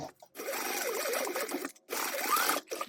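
A sewing machine stitches a 1/4 inch seam in two bursts of fast, whirring motor hum separated by a short pause, close and fairly quiet.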